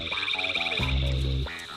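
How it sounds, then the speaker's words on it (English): Frogs croaking loudly at a pond near a landing beach in the evening, a dense chorus of rapid, rasping calls with one deep, drawn-out croak swelling up close through the middle. "I've stumbled upon Frogs Reunited, a group of animals taking the vocal approach to a deafening extreme"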